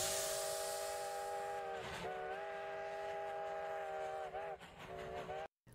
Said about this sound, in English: The Polar Express let out a loud blast from its whistle and sped away.